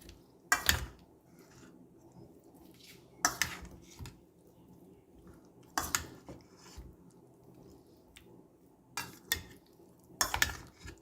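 Washed chicken is mixed into a marinade in a bowl with a spoon, giving five separate bursts of scraping and clattering spaced a few seconds apart, with quiet gaps between them.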